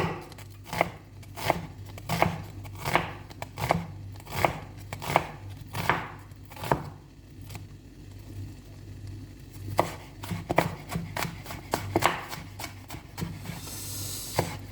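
A knife chops onions and garlic on a board in a home kitchen, a close run of crisp, uneven strikes with brief pauses and no talk.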